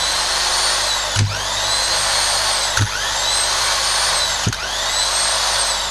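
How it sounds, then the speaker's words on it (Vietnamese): A Japanese-market 3/4-inch electric impact wrench, rated 100 V, 360 W and 2100 rpm, whines at steady speed; its motor briefly drops and spins back up three times as the trigger is worked. "Đảo chiều nhanh tay cò, máy bắn bu lông chuyên dụng đầu 3/4 nha anh em."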